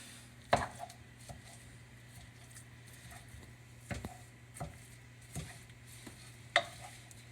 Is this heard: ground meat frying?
yes